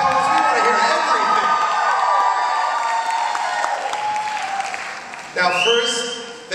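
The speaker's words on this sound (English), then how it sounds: "We want to hear you guys cheering" A crowd cheers and whoops loudly with applause at a drag performance in a lounge, the roar fading slightly before a fresh burst of shouting near the end.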